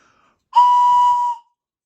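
A Thomas the Tank Engine Birthday Express toy whistle sounds once, a single clear, shrill tone lasting under a second, loud and close in an otherwise quiet room.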